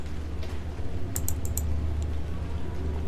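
Quick bursts of computer keyboard typing and clicking, a handful of crisp taps close together near the middle, over a steady low hum in a quiet room.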